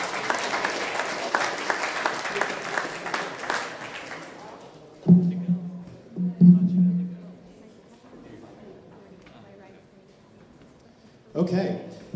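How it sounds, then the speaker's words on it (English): Audience applause at a VR/AR meetup, a steady wash of clapping from a room of people that dies away after a few seconds, followed by quiet with a few brief voices and bumps. "let's give a round of applause"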